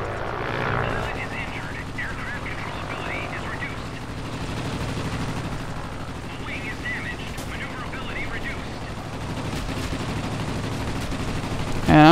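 Aircraft machine-gun fire in the World of Warplanes combat game, rapid bursts crackling over a steady propeller engine drone throughout, with a voice talking over the action.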